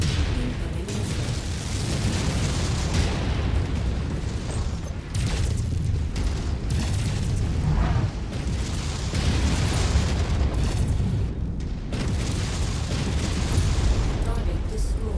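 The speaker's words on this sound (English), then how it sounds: "Incoming missile." Missile explosions and heavy combat blasts rumble through a MechWarrior 5 mech battle, dense booming impacts and mechanical noise running continuously and loudly under radio-style voice chatter.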